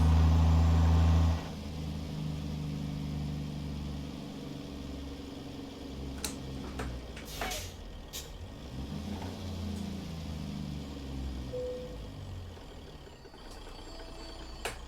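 A truck engine idles in American Truck Simulator on a snowy Alaska ice road, a steady low rumble that holds evenly after a brief louder start, with a few faint clicks and short tones over it.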